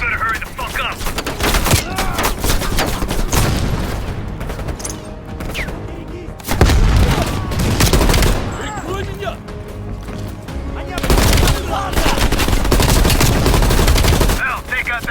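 Machine gun fire from a Call of Duty: Black Ops Cold War campaign battle, loud bursts and sustained volleys layered under dense explosions, game music and shouted dialogue throughout.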